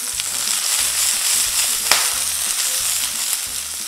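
Shrimp frying in oil in a pan, a loud continuous sizzle with faint rhythmic low thumps underneath and one sharp tap near the middle, no voices.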